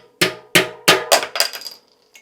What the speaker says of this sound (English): So now we tap the small end of the axle